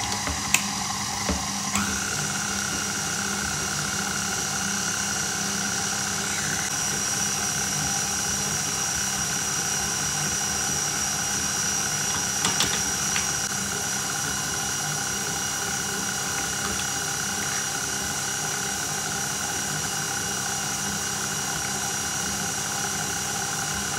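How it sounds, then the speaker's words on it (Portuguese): An electric stand mixer beats room-temperature butter, giving a steady mechanical motor whine with a constant hum and faint rattles, running evenly for the whole stretch without talk. "Se virem que não estão a misturar bem as coisas aqui com a batedeira,"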